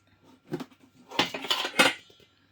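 A brass wok brought from Thailand is handled in a kitchen, giving a few close metallic clanks and scrapes in short bursts, with quiet gaps between them.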